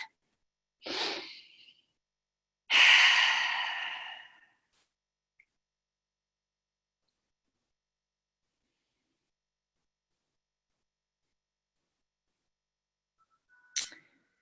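Deep breaths taken during a guided relaxation: a short inhale near one second, then a longer, louder breath lasting over a second, followed by long silence and a faint brief sound at the end.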